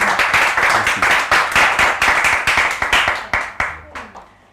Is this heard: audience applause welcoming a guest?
yes